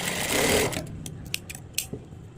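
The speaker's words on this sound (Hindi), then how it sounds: "अब हम यहाँ एक पैर की सिलाई और एक्स्ट्रा सिलाई के साथ साथ लगाएंगे इस तरह से।" A sewing machine runs in a steady burst for under a second while stitching the hook strip on a blouse, then stops, followed by a few light clicks and taps of the fabric being handled.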